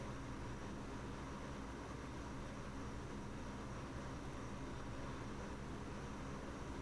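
A Lockheed P-3 Orion in Microsoft Flight Simulator 2020 slows with reverse thrust, giving a continuous loud, hissing roar over a deep rumble that stays even the whole time.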